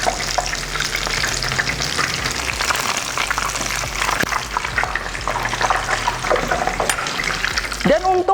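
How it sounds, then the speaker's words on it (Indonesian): Steady, dense sizzling of spring rolls frying in hot oil, loud and close throughout, with a brief clink of a utensil near the end. "Lalu kita akan goreng di minyak yang sudah panas."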